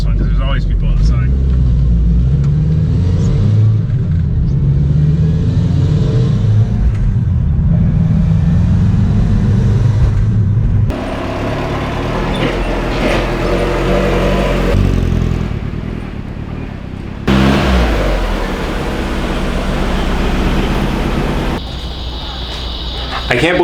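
A turbo Miata drift car with under 80 psi of compression on one cylinder runs while driving, a rough loud engine rumble rising and falling across gear changes, with a person talking over it.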